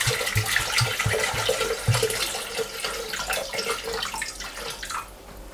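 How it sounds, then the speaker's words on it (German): Water pours steadily into a Thermomix food processor bowl, a continuous splashing rush that fills the whole stretch before easing off slightly at the end. "Wir geben 800 Gramm Wasser in den Mixtopf."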